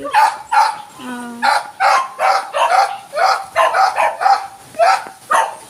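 A dog barks rapidly over and over, close and loud, with a short whine early on and a steady rhythm of sharp yaps.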